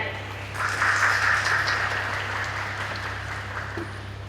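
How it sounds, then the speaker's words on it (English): A conference audience gives a round of applause for an organiser. The clapping is fairly loud and continuous over a steady low hum from the venue, and it fades slightly toward the end. "please join me in giving a big round of applause for Dr. Azil"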